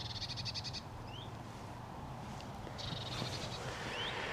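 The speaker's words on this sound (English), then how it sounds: "It's just one or two like squeaking away in the background." Birds squeaking faintly in the background inside a quiet stone chapel, two brief bursts of high chirping separated by a pause, over a low hum.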